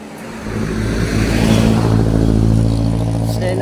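Road traffic on a highway near Indang, Cavite: a steady, loud engine roar of passing cars and a motorcycle, rising after the first half second and holding without a break, with no talking.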